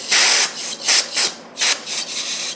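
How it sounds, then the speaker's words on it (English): A rag wipes down an engine mating surface on a 2007 Hyundai Santa Fe 3.3L with brake cleaner, making close, loud, breathy rubbing strokes in several bursts with short pauses between them. "I'm just going to do a final wipe down."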